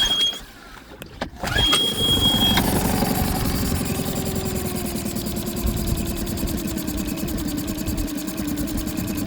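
A car engine idles after injector cleaning and replacement, with a steady low rumble and faint vibration after a few brief clicks and a short high whine at the start.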